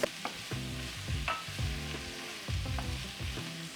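Meat and vegetables sizzle in hot oil in a preheated pan, giving a continuous crackling hiss with bursts of louder spitting and some clattering of food and utensils, close up and with no voices.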